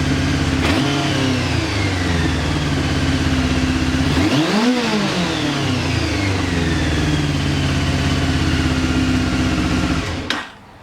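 A Honda CBF 600 motorcycle engine with a fuel fault holds a loud, steady high rev with little drop. A sharp throttle blip comes near the middle, and the engine is cut off abruptly at the end.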